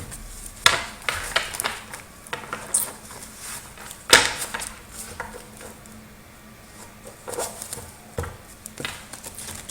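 Oracle or tarot cards being shuffled by hand indoors, with soft papery rustles and a few sharper slaps of cards, coming in irregular bursts with quiet gaps between.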